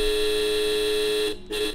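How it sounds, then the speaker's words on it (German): A bus horn in the OMSI 2 bus simulator game sounds one loud, steady, buzzy blast that cuts out briefly near the end and then resumes. No one talks over it. "Das ist die Hupe von einem Bus."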